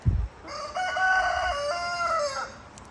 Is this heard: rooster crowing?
yes